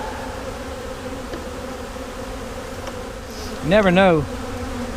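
Honeybees drone in a constant, close buzz at a hive being rescued from a tree, and someone speaks briefly over it near the end.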